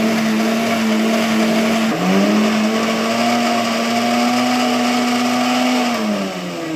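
A home blender with a faulty button, switched at the mains, churning cream into butter: a loud, steady motor whine that dips briefly in pitch, then climbs back and settles before slowing at the end.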